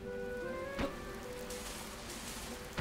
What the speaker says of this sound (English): Rain? I don't think I've seen rain before in this game.